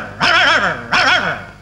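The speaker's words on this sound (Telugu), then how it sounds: "ఏంటే కుక్క అట్టా సొస్తున్నావు?" A dog barks twice in close succession, each bark loud, near and slightly drawn out with a whiny edge, separated by a short pause, in a Telugu movie scene.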